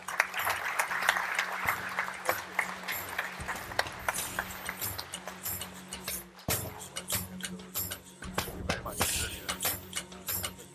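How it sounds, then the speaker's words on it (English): Audience applause for a speaker named Sam at an EFI Inc print industry event, a busy crackle of clapping spread over the whole stretch with a low steady hum and some voices mixed in. "Big round of applause for Sam,"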